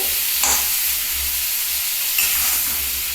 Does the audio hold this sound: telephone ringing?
no